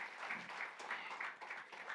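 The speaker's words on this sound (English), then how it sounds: "So big round of applause for it." Audience applause fills a hall at the UiPath India Academic Summit 2019, a steady wash of clapping from a large crowd that runs for the full two seconds at moderate, even loudness.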